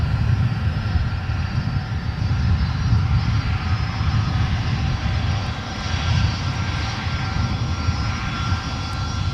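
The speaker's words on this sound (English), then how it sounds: "Yep, ex-Northwest aircraft right in front of us, folks." Former Northwest Airlines jet with its red tail taxiing on a taxiway at Minneapolis–St. Paul Airport, a steady close engine roar with a whine that holds level throughout, no talk over it.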